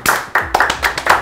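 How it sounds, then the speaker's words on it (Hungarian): A handful of people clap at close range on a cooking competition show, five or six sharp, distinct claps in a quick, slightly uneven rhythm. "Taps jár neked."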